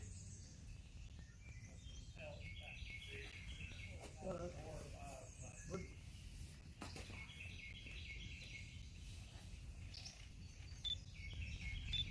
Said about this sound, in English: That bird's right above me.